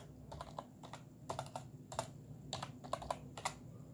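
Keys tapped on a computer keyboard in irregular bursts of quick clicks, close and fairly quiet, with no voices.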